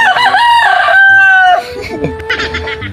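A rooster crows loudly and close by in one long drawn-out call, followed by softer clucking and background noise.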